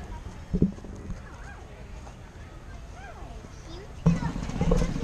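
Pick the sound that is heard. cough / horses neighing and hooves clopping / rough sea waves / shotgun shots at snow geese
horses neighing and hooves clopping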